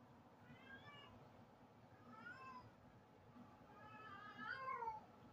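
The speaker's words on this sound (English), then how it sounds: "She's been a very fussy cat." A fussy house cat meows repeatedly, three drawn-out rising and falling calls, the last one loudest, heard close against a quiet indoor background hum.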